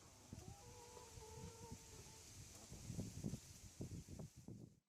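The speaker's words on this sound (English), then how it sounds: "There are chickens in New Zealand, that's for sure. I can see and hear some of them now." Domestic chickens in New Zealand cluck softly at a distance amid rustling outdoor background noise, with a few short bursts of louder clucking toward the end.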